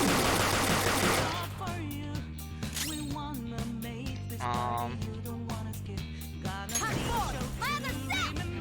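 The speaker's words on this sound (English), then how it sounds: "We'll hit it with the gun." Gunfire from a gun attack during a battle in the Persona 5 video game, heard as sharp repeated shots and impacts over game music, with a brief crash and some game voices.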